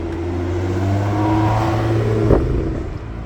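A Porsche 991 Targa arriving at an indoor motor show, its engine humming steadily close by, then a brief sharp rev blip near the end before settling back to idle.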